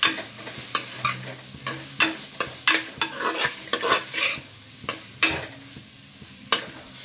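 Prawns fry with onion, tomato and turmeric in a pan while a spoon stirs them in repeated scraping strokes over a soft sizzle, close and fairly quiet, with no talking.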